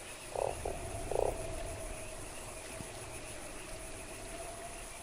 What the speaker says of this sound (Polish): Cześć, żabo.